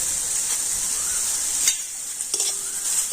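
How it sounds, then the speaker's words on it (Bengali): Chopped vegetables with salt and turmeric are stirred in a sizzling pan for a quick spicy snack, a steady close frying hiss broken by a few scraping strokes and light clinks of a spoon against the pan. "লবণ আর হলুদ দিয়ে সমস্ত সবজিগুলো একটু আমি হালকা করে নাড়াচাড়া করে নেব"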